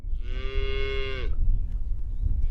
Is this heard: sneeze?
no